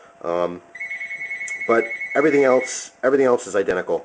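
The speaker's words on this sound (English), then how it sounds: "Please excuse the phone." A phone rings in a room during a review of a Zippo Slim lighter, a repeating electronic ringtone held under a man's close, ongoing talk.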